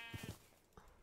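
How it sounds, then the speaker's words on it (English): Sheep bleating in the Minecraft RLCraft modpack, two short close bleats at the start followed by a fainter third, with no talk over them. "Here's sheepy. Good sheepy."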